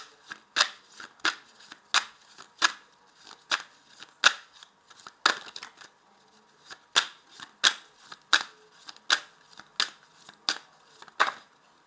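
Tarot cards are shuffled in a series of crisp, riffling bursts, repeated over and over in a quiet room with no talking.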